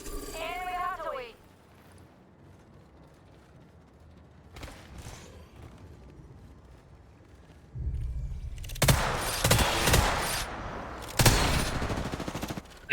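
An enemy artillery strike in Apex Legends lands as a run of loud, dense blasts and crackling impacts in the second half, after a quieter stretch with a voice and scattered sounds.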